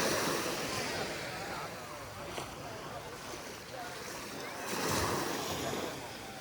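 Waves wash up on a beach in steady rushing surges, with the surf swelling louder near the end. Wind noise mixes in, and the sound is moderately distant and faint.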